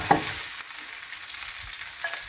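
Chicken pieces frying in oil in a pan make a steady, close sizzle with a faint stir near the start and a brief scrape later, alone without talk.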